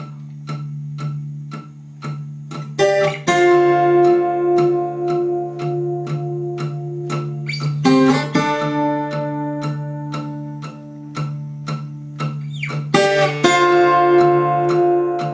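Acoustic guitar in DADGAD tuning playing an intro: a droning open low note under steady, evenly picked treble notes, with strummed chord flourishes now and then, heard alone at moderate volume.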